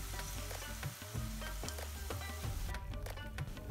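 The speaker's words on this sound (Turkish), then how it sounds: "Jalebilerim kızardı." Jalebi dough frying in hot oil on a stovetop for an Indian sweet, a steady crackling sizzle with scattered pops that stays even and fairly quiet throughout.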